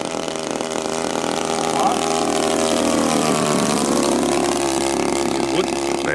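A gas engine fitted with a new CDI unit drives a giant 2.5 m Primary 100 model plane. It runs loud and steady with a buzzing, chainsaw-like drone and slight pitch swells, close by for the whole stretch.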